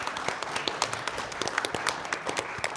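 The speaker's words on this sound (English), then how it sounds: "I paused a couple of times because I didn't want to interrupt your applause." Scattered applause from an audience at a quiz tournament, with uneven claps rising and falling over a few seconds at moderate distance, sounding as though it starts and tapers rather than building into a full ovation.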